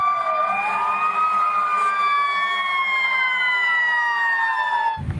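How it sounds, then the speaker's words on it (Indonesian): A toy ambulance's electronic siren wailing up and down continuously at close range, loud and alone, ending with a brief knock. "Wow, ternyata ini mobil ambulan."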